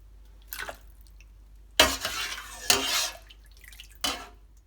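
Bone broth being strained, with a few separate splashes and drips of liquid and light clinks of kitchenware spaced through a quiet background.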